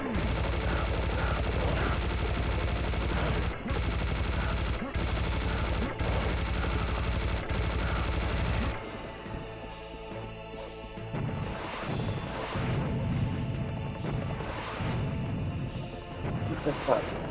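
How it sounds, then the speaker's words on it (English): A chain gun fires nonstop in the video game Serious Sam: The First Encounter, a dense, loud mechanical roar for about nine seconds, then fades into scattered game combat noise and impacts. "we're switching to the chain gun now"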